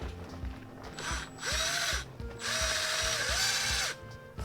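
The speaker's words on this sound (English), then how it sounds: "And we're just going to drill." A small power drill whirs in bursts, its motor pitch rising and falling as it bores into a carrot, close by.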